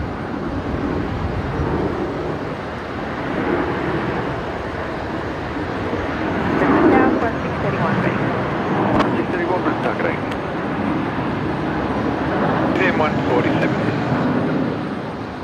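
Qantas 936, an airliner just arrived from Perth, taxiing at Brisbane Airport, a steady engine rumble holding through the whole stretch under ongoing talk.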